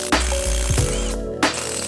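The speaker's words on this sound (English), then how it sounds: "undo all the 12mm bolts holding that against the axle" A ratchet works on 12mm bolts on a Tacoma brake line bracket against the axle housing, giving close mechanical clicks with a few sharp knocks in a short burst.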